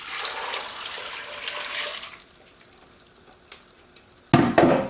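Broth splashes and pours into an Instant Pot for beef chuck roast soup, a steady watery stream for about two seconds, then quiet with small clinks, ending in a couple of louder clattering knocks.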